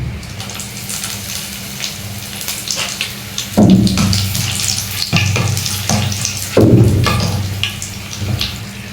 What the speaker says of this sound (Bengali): শুকনো মাছটা ভেজে নিব।